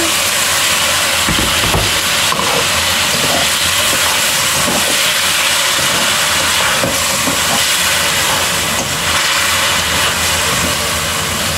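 Water poured into a hot curry pan hisses and sizzles steadily and loudly, a broad continuous frying noise with no talking.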